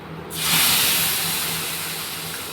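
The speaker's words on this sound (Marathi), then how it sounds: "आताच दूध घालायचं" Milk poured into hot, browned roasted semolina (rava) in a pan for sheera gives a sudden loud hissing, steaming sizzle that swells quickly and then settles into a steady bubbling hiss, with no talking.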